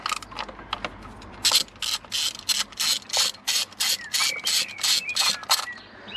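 An Allen key turning out the hex screws of a BMW crankcase vent valve (oil breather) gives a fast run of dry ratcheting clicks and scraping bursts, close and fairly loud, coming in steady pulses with no talk.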